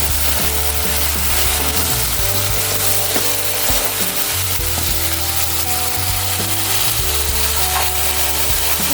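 Snakehead fish sizzles steadily as it fries and is stirred in spicy masala, with scraping stirring strokes and a low hum running underneath throughout.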